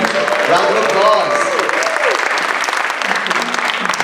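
Audience at an Indian American Forum book reading by an author breaks into loud, sustained applause, with a voice speaking over the clapping near the start.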